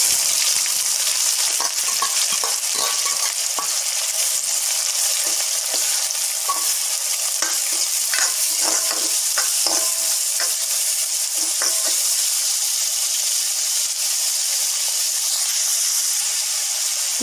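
Onions frying with popped mustard seeds in oil for mutton thokku, a loud continuous sizzle and hiss close up, dotted with crackles and small spatters as the pan is stirred.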